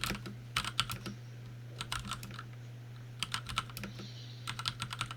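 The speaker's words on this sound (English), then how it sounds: "Oh, you typing." Typing on a computer keyboard in bursts of quick clicking keystrokes with brief pauses between, fairly close, over a steady low electrical hum and no talk.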